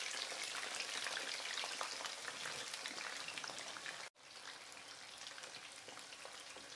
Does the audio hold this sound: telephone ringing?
no